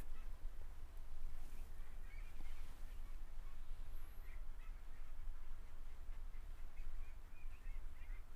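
Ducks on a semi-intensive duck farm at Jerudong quack and call in scattered bursts over a loud, constant hum of farm noise, moderately distant, with no talk.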